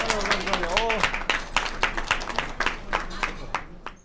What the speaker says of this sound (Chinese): 来鼓掌，鼓掌，鼓掌